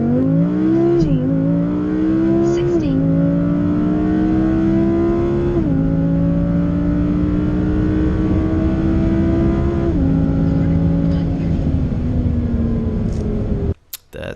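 A 2017 Audi R8 V10 charges down a quarter-mile drag strip, its engine roaring loud and close as it climbs through several gears, each shift marked by a brief dip before the rising howl resumes, ending in a sharp cutoff.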